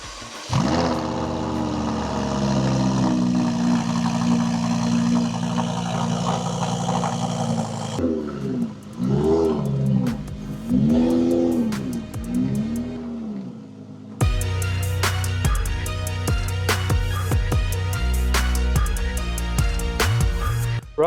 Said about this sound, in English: I've never actually driven a Huracan Performante before